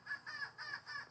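A crow caws repeatedly outdoors beside a house, with five or so rhythmic, harsh calls at moderate distance and no talking.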